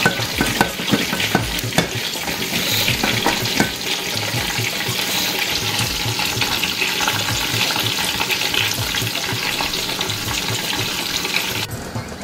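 Prawn masala with garlic frying in a pan, a loud continuous sizzle with scraping and stirring strokes throughout, close up and without talk.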